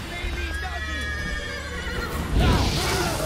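A horse in The Witcher 3 whinnies loudly and close, a long wavering neigh followed by a burst of snorting and hoof noise near the end.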